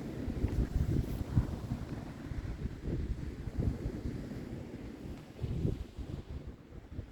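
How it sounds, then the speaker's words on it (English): Wind gusting across an open beach on the Holderness coast in the UK during a sea-fishing session, a steady low roar with buffeting on the microphone and swelling gusts, no voices. "The wind's picking up again, but it seems to be blowing from a different direction."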